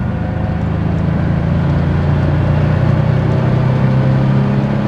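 An air-cooled Porsche with mechanical fuel injection, heard from inside, gives a steady loud engine drone that rises slightly in pitch as it revs and accelerates, with no talk.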